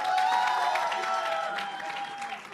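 An audience at a political debate show on Bengal claps steadily for a couple of seconds, the applause easing slightly toward the end.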